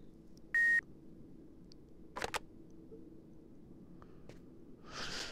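Telephone keypad beeps and short electronic tones from the Fahrenheit video game: a steady tone near the start, a cluster of presses around the middle, a faint blip later and a brief noisy burst at the end, over low background hum.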